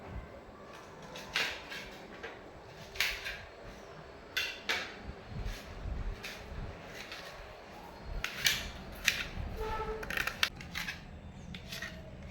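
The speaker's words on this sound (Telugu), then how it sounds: "ఆ లోపు అయితే ఇంకా పచ్చిమిర్చి ఆనియన్ అయితే కట్ చేసుకుంటాను" A knife chopping green chillies and onion on a board in a home kitchen: irregular, crisp cutting taps in short bursts, fairly close and quiet, with no speech.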